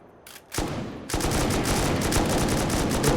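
Rapid bursts of heavy machine gun fire in an online survival game during a base raid, loud and continuous after a brief pause, with sharp repeated shots running together.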